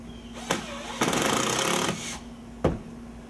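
A power drill drives screws into pre-drilled wall studs during a window install, with a sustained whir of nearly a second framed by short, sharp bursts of the tool, close and fairly loud.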